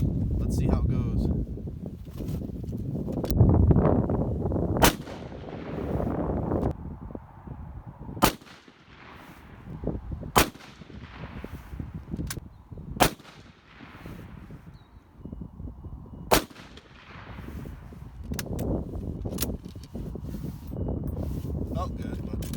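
Rifle shots ring out from a military surplus rifle firing 1940s USSR 148-grain light ball ammunition. About nine sharp reports come at irregular intervals over wind noise and low background rumble.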